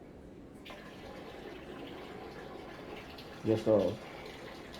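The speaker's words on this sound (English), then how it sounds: "I'm pouring water into the sink." Water poured into a sink in a home, a faint steady trickle beneath a low background hum, with a brief louder gush near the end as a voice speaks.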